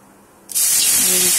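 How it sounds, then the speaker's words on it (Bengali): Hot water poured onto moong dal that has just been fried in oil, a sudden loud rush of sizzling hiss that bursts in and holds steady, close and dense, after a brief quiet moment. "দিয়ে দেব গরম জল"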